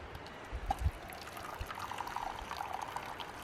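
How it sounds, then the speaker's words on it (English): Steeped coffee poured from a pot over a small IKEA utensil-holder camp stove, a steady thin trickle of liquid running for a few seconds at close range with a couple of soft knocks near the start. "get that coffee poured"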